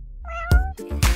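A cat gives two close, clear meows in quick succession, the first a drawn-out rising call and the second shorter, with no other sound around them.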